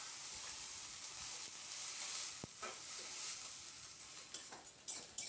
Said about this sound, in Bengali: এবার পেঁয়াজটা দিয়ে মিনিট 2-3 মতো নাড়াচাড়া করে পেঁয়াজটাকে একটু হালকা করে বাদামি